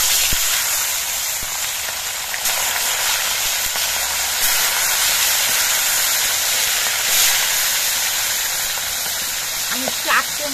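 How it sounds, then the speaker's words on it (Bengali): Kokila fish pieces fry several at a time in hot oil in a wok, giving a loud, steady, hissing sizzle that runs unbroken throughout. "এবার কয়েকটা করে মাছ একসঙ্গে দিয়ে আমি ভেজে নিচ্ছি।"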